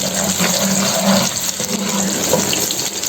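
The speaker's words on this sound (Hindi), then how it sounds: "तो ये भी हमारा प्याज फ्राई हो रहा है।" Onions for chicken qeema sizzle and crackle steadily in a hot pan, a continuous close frying hiss with no voices.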